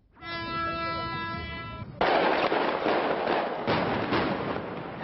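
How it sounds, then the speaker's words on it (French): Implosion demolishing grain silos damaged by an earlier explosion at the port of Blaye, heard as a loud, dense burst of crackling blasts and rumbling debris lasting several seconds after a short tonal warning signal. "Sur le port de Blaye, l'implosion a duré quelques secondes."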